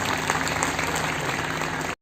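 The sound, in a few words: audience clapping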